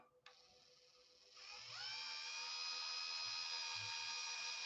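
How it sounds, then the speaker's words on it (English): A power drill boring a hole through aluminum for a throttle post on a Tmaxx Dodge Ram model truck: a click, then a whining motor that ramps up in pitch and holds a steady, close, high drone. "I'm going to go ahead and drill this hole out so I can get my throttle post in here."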